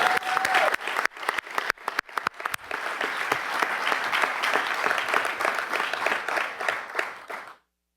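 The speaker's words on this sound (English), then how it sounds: "You can clap to that." An audience at a sheriff's office leadership announcement in Louisville breaks into applause, scattered claps first, then building into steady, full clapping that holds for several seconds before cutting off.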